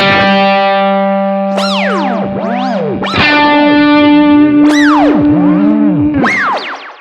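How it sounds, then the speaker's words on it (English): A sustained electric guitar note through a Line 6 Helix ramp modulation effect at 50% mix, pitch bending up and down in fast, wild psychedelic sweeps, loud and continuous. "now we hear the initial note, and then it's mixed in with all the wacky psychedelic stuff"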